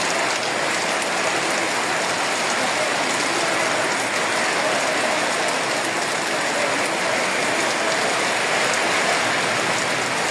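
Steady rain keeps falling after a storm, a dense, even hiss with fine patter on surfaces continuing unbroken and fairly loud throughout, with no voices.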